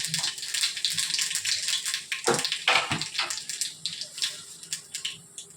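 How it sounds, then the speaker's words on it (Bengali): Black cumin seeds are tempered in hot oil in a pan, making a loud, continuous crackling sizzle with dense popping spits that gradually thins out. "এবারে আমি এর মধ্যে কালো জিরে ফোড়ন দেব।"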